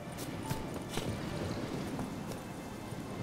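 Horse hooves clip-clop at a steady walking rhythm in the video game The Witcher 3, close and clear over a soft game ambience, with no talking.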